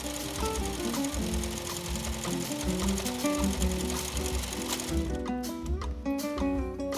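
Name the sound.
sewing machine stitching fabric pants panels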